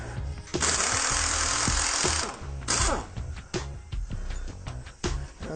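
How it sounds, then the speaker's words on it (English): Bolts come out of an RV sway bar during a stabilizer installation. A power tool rattles loudly in a sustained burst at first, then gives way to shorter stuttering bursts and clicking while the bolts are backed out close by. "So I'm going to go ahead and take those bolts out."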